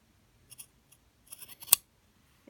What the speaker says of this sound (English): So I'm going to cut this just straight.